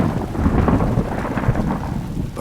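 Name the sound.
thunderstorm with rain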